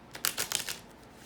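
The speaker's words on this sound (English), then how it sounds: "let me get a couple of these oracle cards." Oracle cards being shuffled close up, a quick burst of several crisp riffling flicks that fades to quiet, with no voices.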